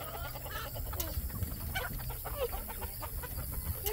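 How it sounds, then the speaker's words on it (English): Chickens cluck and murmur steadily in a busy flock, soft overlapping calls with a faint higher squawk now and then over a low background hum. "All the little chickens are over here."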